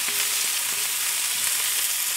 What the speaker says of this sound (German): Es muss ordentlich brutzeln und das machen wir jetzt zuallererst mit unseren Zwiebeln und unseren Zwiebelschmalzstückchen hier.